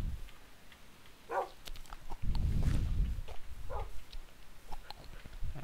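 Puppies in the Minecraft video game bark and whimper in short, sharp yips and thin whines, scattered irregularly across the moment with brief gaps, close and fairly loud, with no talking.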